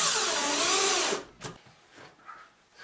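A power drill drives screws into a baseboard in a studio: a loud, close, high-pitched whirring burst lasting about a second, then a few light knocks and handling sounds.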